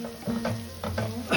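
Chicken pieces fry in a pan while a utensil stirs them, giving a steady sizzle broken by several scraping strokes, close and fairly loud, with no talk.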